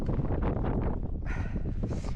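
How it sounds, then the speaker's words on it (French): Strong mountain wind buffets the microphone in a continuous loud roar with gusty rustling, steady across the whole stretch and heard alone. "Il y a masse vent."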